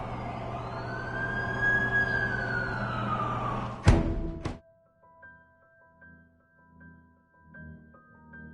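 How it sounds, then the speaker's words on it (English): An ambulance siren wails loud and close in the Amazing Spider-Man 2 video game, its tone sweeping up and down for about four seconds before cutting off abruptly, followed by soft game music. "That's the ambulance I called."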